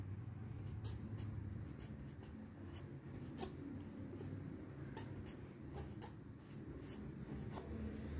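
Faint pen or chalk strokes as a chemical reaction is written out, short scratchy taps at an irregular pace over a low background hum.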